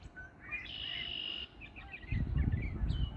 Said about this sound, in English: you can hear there's a red-winged blackbird over here